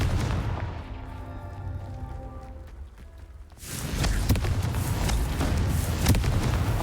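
In Hogwarts Legacy, a Confringo fire spell bursts into a loud, sudden explosion after a quieter, tonal stretch, followed by crackling, rumbling aftermath.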